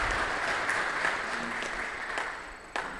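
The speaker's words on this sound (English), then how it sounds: "Another round of applause" A steady wash of moderate applause from an audience at a talk event, evenly dense clapping that slowly fades, with a few sharper claps standing out near the end.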